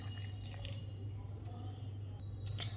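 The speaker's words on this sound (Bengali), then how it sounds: "ওই ভাতের মধ্যে দিয়ে দেব এই কাপের 1 কাপ উষ্ণ গরম জল।" Warm water is poured onto cooked rice in a mixer grinder bowl, a faint, brief trickle and splash with soft drips over a low background hum.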